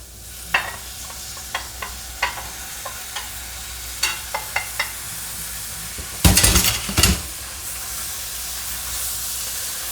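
Beef sizzles and fries in a stew pot as it is stirred, with a steady hiss, a string of sharp scraping clicks from the spoon, and a louder burst of crackling sizzle midway; no talking.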